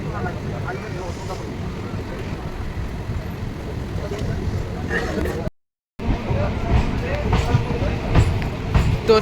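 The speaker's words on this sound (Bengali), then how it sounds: "ট্রেন এখন ফাইনালি বিরাটি ঢুকলো" A local train on the Sealdah line rolls into Birati station with a steady low rumble and rattle, overlaid by a murmur of passenger voices; the sound cuts out briefly midway.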